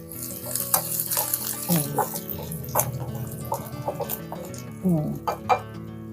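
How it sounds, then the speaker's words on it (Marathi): Onion sizzling in hot oil with cumin and mustard seeds in a village-style kitchen pan, a steady close frying crackle with bursts of spitting, while a voice speaks quietly underneath. "जिरं मोहरी तेळ आता कांदा टाकते"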